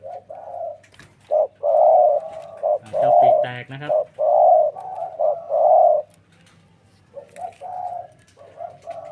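Decoy dove kept in a trap cage, cooing loudly and repeatedly in rounded, resonant phrases at close range, with a voice briefly speaking over it.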